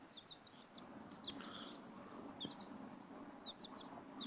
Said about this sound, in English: I can hear your bird tweeting